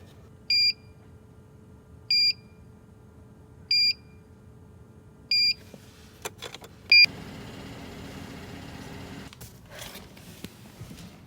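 A plug-in performance tuning module for a Mercedes-Benz C300 W204 beeps four times in a short, evenly spaced series, a few clear electronic tones over quiet car ambience, then clicks and rustles follow.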